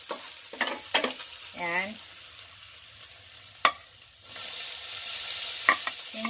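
Chicken gizzards sizzle quietly in a pan, a soft steady frying hiss that grows fuller in the second half, broken by a few clicks and brief spoken words.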